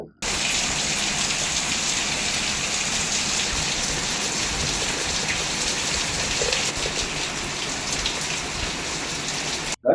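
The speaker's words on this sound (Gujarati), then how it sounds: "આજે સવારથી ગાજવીજ સાથે અનરાધાર સ્વરૂપે વરસાદ વરસવાનું શરૂ રહેતા" Heavy city rain pouring steadily, a dense, loud, unbroken hiss of drops on surfaces lasting the whole stretch without any talk.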